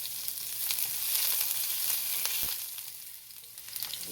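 Garlic frying in a hot skillet over low heat, a continuous bright sizzle with occasional pops and crackles and no talking.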